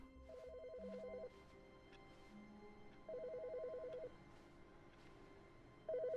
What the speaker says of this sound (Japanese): 電話鳴ってない？